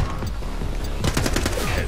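Loud, rapid gunfire in the shooting game The Club crackles close up, with a flurry of fast bursts that intensifies toward the end.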